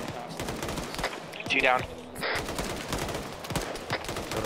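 Gunfire in a multiplayer military shooter video game, rapid distant shots and bursts mixed with game noise, while several players talk over comms throughout.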